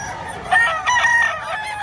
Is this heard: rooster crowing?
yes